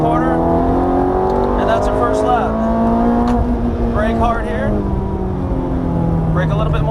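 A Ferrari F430 engine roars on a racing track as it accelerates out of a corner, with a loud, steady, high-pitched whine that rises smoothly in pitch throughout.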